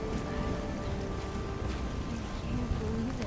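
Steady rain falling in the wasteland of the video game Fallout 4, a constant dense patter with a low rumbling undertone, close and even throughout.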